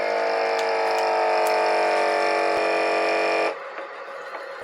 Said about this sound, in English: Got our chops vacuum sealed. Ready for the water bath.